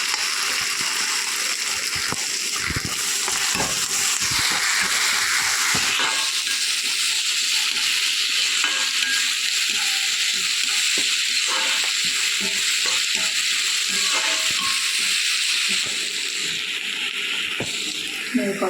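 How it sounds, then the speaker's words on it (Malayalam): Crushed ginger and garlic fry for chicken thoran, a continuous bright sizzle with scattered pops and scraping sounds running throughout at a steady, fairly loud level. "ഇതിലോട്ട് കുറച്ച് ഇഞ്ചി വെളുത്തുള്ളി ചതച്ചിട്ട് ചേർത്തിട്ട്"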